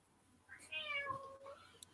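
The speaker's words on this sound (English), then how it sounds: "Oh, somebody has a cat." A single cat meows once, a rising then falling drawn-out call heard fairly close against a quiet indoor background, followed by a brief faint click.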